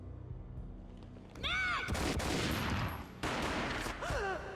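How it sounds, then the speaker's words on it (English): A gunshot booms during Max Payne gameplay, a heavy blast with long reverberant decay, surrounded by further explosive bursts and whooshing slow-motion sound effects, loud and dense with no talking. "A gunshot boomed and she fell down in slow motion."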